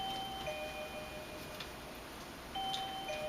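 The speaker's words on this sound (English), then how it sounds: "McGee, that's the doorbell." A doorbell chimes twice, faint, with a clear two-tone ding and a pause between the rings, over a soft background hiss.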